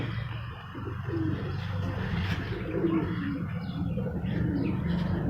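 Local breed pigeons coo softly and repeatedly at close range on a rooftop, with low throaty calls over a quiet outdoor background and an occasional faint chirp.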